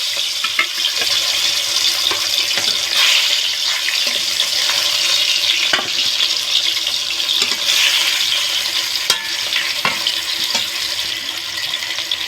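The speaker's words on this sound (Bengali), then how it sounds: "তেলটা গরম হয়ে গেছে, এবার মাছগুলো ভেজে নেব।" Fish frying in hot mustard oil for a fig fish curry, a steady bright hiss and crackle running close and continuous with a few soft clicks, no voices.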